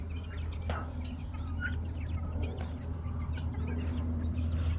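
Quails in a backyard aviary planted with fruit trees and fruiting bushes in subtropical Queensland give a few short chirps and calls over a steady low hum of outdoor background noise.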